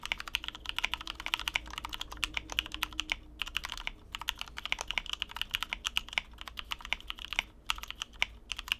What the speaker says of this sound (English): The lubricated switches are amazing.